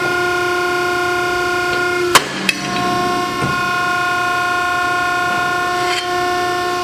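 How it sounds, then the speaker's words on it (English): A loud hydraulic ironworker punch slams a hole through metal with a sharp bang, then a second thud follows, over a steady machine hum with tonal whine. "press down this lever, and it's going to make a loud noise and punch a hole right through my metal"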